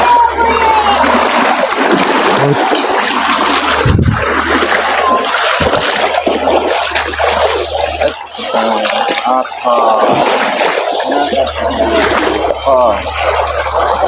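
A fast, swollen stream rushes and splashes loudly and steadily throughout during fishing, with voices talking over the roar of the water.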